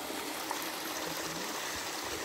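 Water flowing from a natural spring, a close, steady rushing trickle with an even bright hiss and no breaks or voices.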